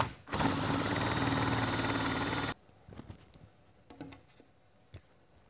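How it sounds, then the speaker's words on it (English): A power tool countersinks a prosthetic locking pin connector, a loud close whirring buzz for about two seconds that cuts off abruptly, followed by quiet handling taps and clicks. "Let's do a little countersinking with it, see if we can smooth the edge up."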